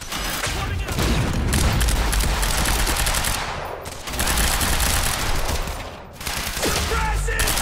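Sustained automatic gunfire from a Quantum Break combat firefight, dense and loud with heavy booms, briefly easing twice before the rapid bursts resume, with faint shouting underneath.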